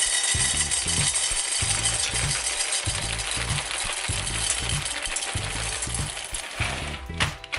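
Dry casserole pinto beans poured from a bag into a pot, a dense continuous rattling cascade of hard beans striking metal that runs steadily for several seconds before thinning out near the end.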